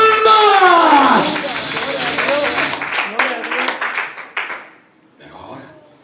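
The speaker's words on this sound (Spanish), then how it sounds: "Démosle a Jesús una ofrenda de palmas" A church congregation claps as an offering of praise, scattered, rhythmic clapping that rises under a preacher's voice and crowd sounds, then thins out and fades near the end.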